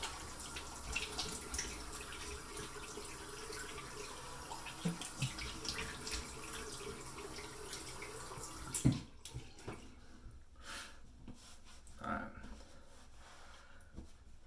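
Tap water runs steadily for a rinse-off during a wet shave, a faint continuous wash that drops away partway through, followed by a few scattered handling sounds.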